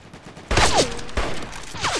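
Gunfire in the Roblox video game comes in two quick bursts of rapid shots, loud and close, separated by a brief pause.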